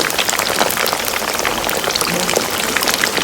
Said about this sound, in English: Our crispy cocoyam or koliko sounds so crunchy.